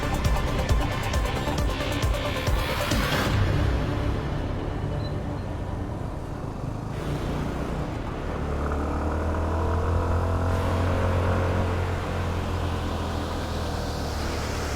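A CFMoto 250SR motorcycle labours up the steep road to Keokradong, its engine droning steadily and loud throughout, with revving shifts in pitch and a deeper low rumble building in the second half.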